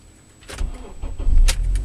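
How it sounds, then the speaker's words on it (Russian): A 2007 Honda Accord 2.4 with an automatic gearbox and a weak battery is started: a short, close starter crank builds into the engine catching and settling to a louder, low idle. "Так, заводим. Хоть бы завелась."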